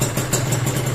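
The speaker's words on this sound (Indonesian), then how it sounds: "Wow, mantap langsamnya halus. Ini mesin padahal belum panas kan ya." Cold motorcycle engine idling right after fitting a new PWK carburetor, a steady, smooth low rumble with light mechanical clatter, close and loud with no voices.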